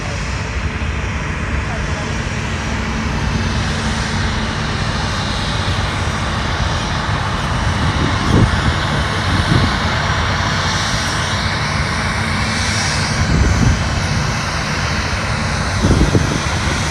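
An Embraer 300 airliner arriving at Fort Lauderdale airport, its steady jet engine roar loud and sustained throughout, with faint wind noise and no talking in the clip.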